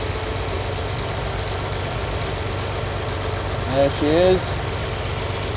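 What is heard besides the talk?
Lamborghini 350 GT engine idling during mixture adjustment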